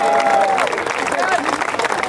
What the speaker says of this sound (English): Let's give a great round of applause to the owner and operator, John Cassavetes.